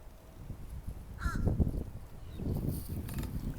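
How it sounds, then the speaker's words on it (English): A crow caws a few times at a county park, sharp raspy calls set against outdoor background noise and soft rustling, fairly close and moderately loud. "You got Mr. Crow over here saying hi."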